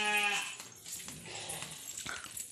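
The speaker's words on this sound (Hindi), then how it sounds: "हमारी भेड़ आवाज लगा रही है हमें," A sheep on a Himachali farm lets out a single clear bleat at the start, close by, then fades into quieter rustling background sounds.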